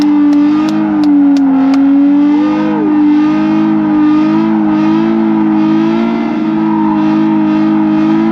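A Nissan R33 GTR engine at full throttle, revving hard in a loud, sustained drone with a strong tonal whine that shifts slightly in pitch, close and unaccompanied by talk.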